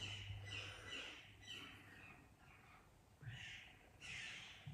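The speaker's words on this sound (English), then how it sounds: "And those birds are nested right on top of this." Crows nesting nearby beside an altar give repeated harsh caws in bursts, some close and loud, others fainter, with no talking.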